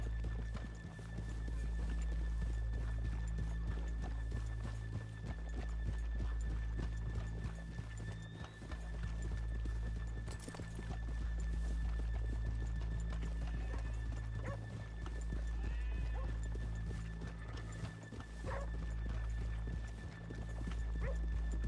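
Horses in a PS4 video game trot in a steady clip-clop rhythm, hooves beating continuously, with an occasional whinny over a constant low hum.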